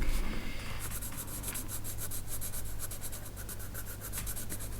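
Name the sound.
Luminance white colored pencil drawing highlights on paper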